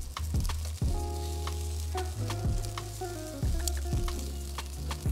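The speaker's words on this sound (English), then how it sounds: "We got the wingtips, chest carcass, back carcass, all smoking up right here." Chicken wingtips with chest and back carcasses smoking on a yakitori grill give a loud, steady crackling sizzle. Dense popping and spitting run throughout, with low rumbling tones under them and no voices.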